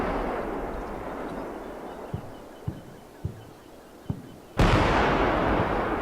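Tank ordnance cooking off in a World War II armor combat video game, heard as several sharp thumps spaced about half a second apart, then a loud burst of heavy explosive noise over a constant rumble of battle.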